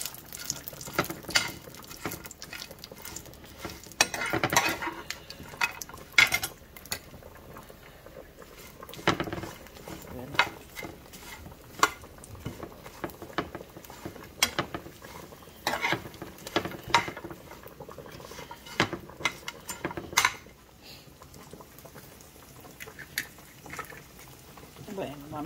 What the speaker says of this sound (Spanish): ya estoy dorando aquí la carne